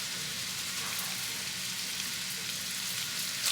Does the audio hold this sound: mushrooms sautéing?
yes